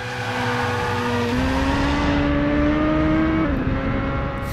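A Nissan drifting in the video game Driver San Francisco revs loudly and steadily, the engine note climbing in stepped pitch shifts with gear changes, close and continuous with no talk.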